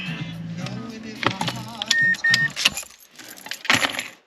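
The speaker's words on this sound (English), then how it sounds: "We're going to put the key in the ignition position, or on, and we have 12." Keys jangle and a key slides into the ignition of a Mazda 5, with clicks and metallic rattles. Brief car interior noises follow, close and fairly loud, with no talking.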